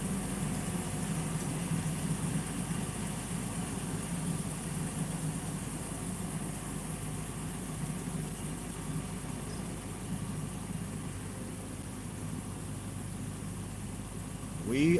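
A car on Kentucky Highway 91 gives a constant low engine drone and road rumble from inside the cabin, steady and moderately quiet throughout, with a brief louder bump at the very end.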